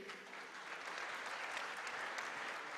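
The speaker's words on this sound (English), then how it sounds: "let's have a big round of applause for the President of the World Squash Federation" Audience applause at the finals of the WSF Under-23 World Squash Championships 2025: a dense, steady wash of clapping from a large crowd that holds at an even level throughout, with no voices on top.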